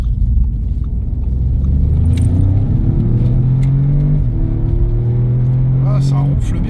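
A sporty hatchback, an Audi S3 or Golf GTI, rumbles with a deep, steady engine and exhaust note from close by, its pitch rising and settling as it revs, while people talk over it.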